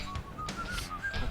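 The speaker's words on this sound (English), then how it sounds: "I can whistle." A person whistles a few short, bright notes over a steady video-game background during a Descent playthrough, with no talking.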